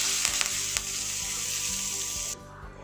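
Curry leaves crackle and sizzle loudly in hot oil as a tempering for sambar, a dense hiss with a few sharp pops, cutting off abruptly near the end to a quieter bubbling.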